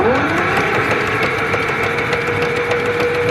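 A vintage Cat D7 dozer engine, first started after ten years, runs with a steady mid-pitched mechanical drone and a faint rising tone, close and continuous without talk.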